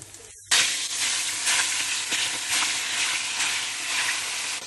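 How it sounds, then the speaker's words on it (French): Loud, steady sizzling of meat frying in hot oil, starting abruptly after a brief quiet moment and crackling continuously throughout. "nous allons le passer à la friture"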